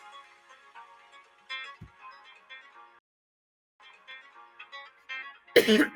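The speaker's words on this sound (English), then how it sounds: "let me just take a cough there" A single sharp, loud cough bursts out near the end, following several seconds of quiet background tones and a short silent gap.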